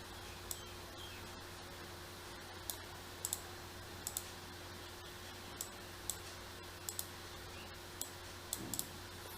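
A computer keyboard is typed on slowly, giving sparse, crisp, isolated clicks at irregular intervals over a steady low electrical hum, with no talking.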